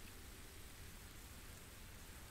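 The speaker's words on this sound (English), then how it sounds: "The wonderful rain." Steady, even hiss of rain in the video game Knytt Underground, a dense continuous wash with no distinct drops, faint and uniform throughout with no voices.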